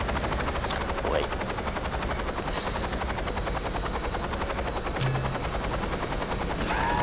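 Helicopter rotor thumping drones throughout a helicopter attack in Saints Row 2, with bursts of rapid gunfire and game effects layered over it.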